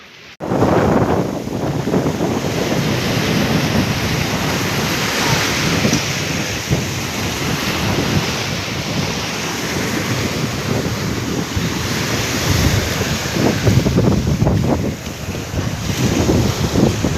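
Strong wind roars into the microphone over crashing waves aboard a fishing boat at sea, a loud, continuous rush that hardly lets up for the whole stretch.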